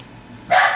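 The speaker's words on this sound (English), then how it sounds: "Ella is barking because the guest is coming" A dog named Ella barks once at an arriving guest, a single sharp bark close by that cuts in after a brief quiet stretch in a home kitchen.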